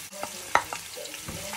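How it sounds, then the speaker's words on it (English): Chopped onions frying in hot palm oil on the stove, a gentle continuous sizzle broken by several clicking and scraping stirring sounds, close by, with no voices. "My palm oil is on the stove already. So I'm gonna add chopped onions."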